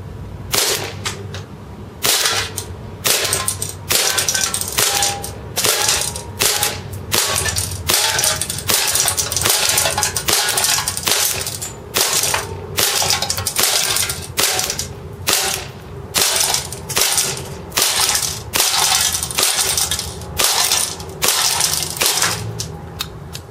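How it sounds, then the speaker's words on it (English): A KWA NS2 Sig Sauer P226 gas airsoft pistol, running on propane, fires BBs at a can about ten feet away. The shots are sharp, loud and evenly spaced, each a crack with a mechanical snap, in a steady string and with no talking. "Now we're about 10 feet away and it's time to shoot a can."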